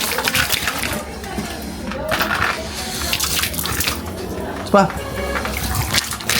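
Water is poured and splashed to rinse cobra venom from a person's eyes, a steady running wash with brief splashes under excited voices talking throughout.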